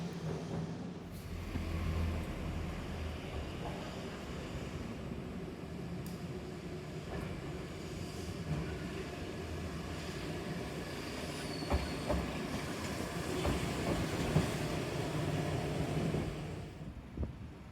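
A Kyoto Randen tram runs along a street-level track beside road traffic, a long steady rumble with faint squeals and clanks rising slightly toward the end before fading.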